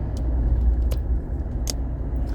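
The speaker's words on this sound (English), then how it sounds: "There's lots of traffic here." Road traffic rumbling past at a construction site for a new railway station, a steady low roar close by with a few brief higher clinks and rattles over it, no voices.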